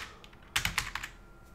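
A short burst of keystrokes on a computer keyboard, several quick soft clicks typing a brief word, close and quiet with no talking.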